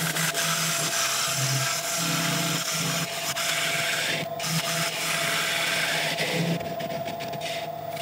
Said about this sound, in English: and then we can start sanding